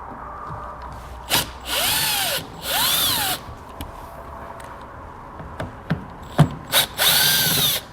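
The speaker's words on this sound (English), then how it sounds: "We're going to use a T15 to get these removed." A power drill with a T15 Torx bit backs out trim screws on a 2018 GMC Sierra 1500 in several short whirring bursts, each speed rising and falling, with small clicks and clatter between them.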